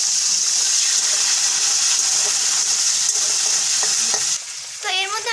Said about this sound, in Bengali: পেঁয়াজগুলোকে ভালোভাবে লাল লাল করে ভেজে নিতে হবে